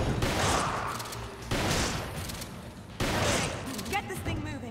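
Loud booming shotgun blasts in the video game Resident Evil 5, three heavy shots spaced over a few seconds, each decaying into reverberant noise, with voices from the game briefly audible.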